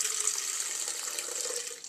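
Homebrewed beer pours from a tap into a container in a steady, hissing, bright trickle for about two seconds, then tapers off near the end, close and alone.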